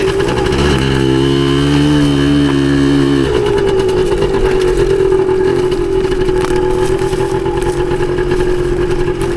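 Engine of a 1981 Suzuki DS100 two-stroke trail motorcycle on a ride, loud and close, revving with shifting pitch and then holding a steady buzzing drone.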